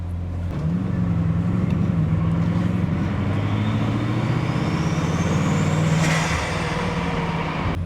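Bugatti Chiron on a test drive through a city, its engine humming steadily with a rising whine as it pulls away, heard from inside over road noise.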